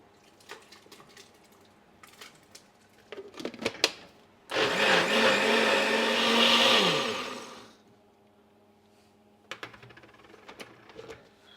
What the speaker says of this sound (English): blitz it with a stick blender or stick it in a blender